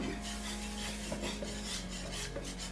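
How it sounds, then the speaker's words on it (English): A spoon scrapes and rubs through thick crawfish étouffée in a pot, rhythmic rasping strokes repeating steadily at close range without any talk. "Just keep stirring."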